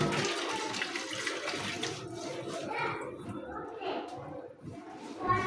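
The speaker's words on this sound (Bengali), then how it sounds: "আলুগুলো ধুয়ে নিলাম, ধোয়া হয়ে গেছে" New potatoes washed in water in a home kitchen, a continuous splashing and sloshing at close range with a steady running-water wash throughout.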